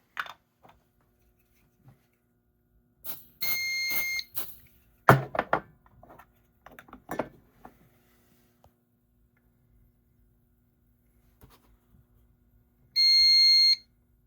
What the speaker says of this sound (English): Now let's walk test the smoke detector.